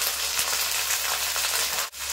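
Cumin and radhuni tempering sizzles steadily in hot oil in a Bengali kitchen, a close, even frying hiss with a brief dip near the end.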